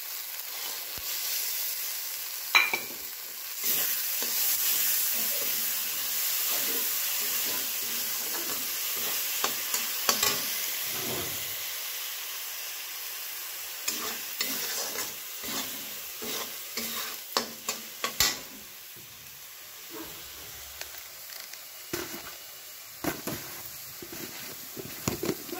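Ground tomato frying in a pan for onion sabzi, a continuous sizzling hiss broken by repeated scraping stirs and clinks that grow busier toward the end.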